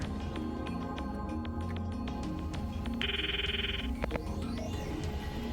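An in-game phone call in the Steins;Gate visual novel: a brief electronic ringing tone rises over steady background music, lasting about a second before fading.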